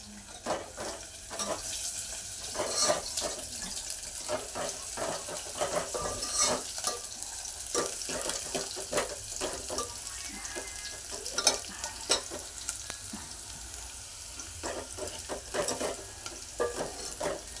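Sliced onions roast in a pan for Maharashtrian mung dal curry, sizzling steadily while a spatula stirs and scrapes in a quick, irregular rhythm of close clatters.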